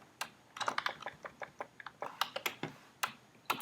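Rapid, uneven keystrokes on a computer keyboard while writing a shell script, a close run of sharp clicks in quick bursts with brief pauses and no talk.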